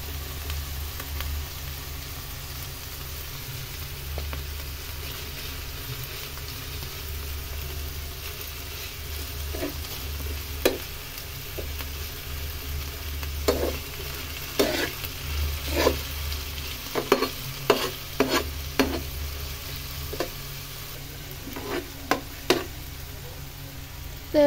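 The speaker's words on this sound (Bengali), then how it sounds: "কুচি করা রসুন আর কুচি করা আদা। এটা দিয়ে একটু তেলের উপরে ভেজে নেবো যেন কাঁচা ভাবটা না থাকে।" Chopped garlic and ginger fry in a little oil for a pasta dish, giving a faint steady sizzle. Sharp scraping clicks of stirring come in irregular bursts that grow busier toward the end, and a low hum sits underneath.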